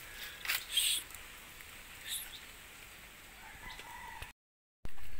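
Backyard chickens cluck and a rooster crows faintly in the distance outdoors, short calls over a soft background hiss that resembles light rain, ending with a brief cut of silence.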